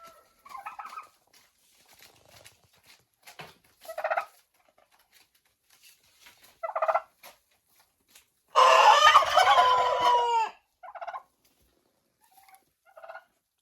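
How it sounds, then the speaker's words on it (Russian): A rooster in a winter chicken coop lets out one loud, close crow lasting a couple of seconds, surrounded by scattered short clucks and calls from the hens. "это вы что, с каждым кукареканием петуха вот так вот реагируете здесь?"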